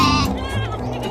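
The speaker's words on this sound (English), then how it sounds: "G for goat." A single goat bleat in an alphabet phonics song for children, a short wavering cry heard clearly over a steady musical backing.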